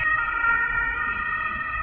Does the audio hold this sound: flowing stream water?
no